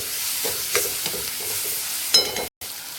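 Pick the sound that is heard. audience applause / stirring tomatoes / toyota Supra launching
stirring tomatoes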